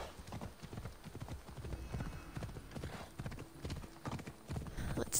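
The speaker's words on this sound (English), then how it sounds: "Oh, I got such a good horse." Horse hooves clip-clop in Assassin's Creed Odyssey, a quick, quiet rhythmic trot of close, even beats running the whole way through.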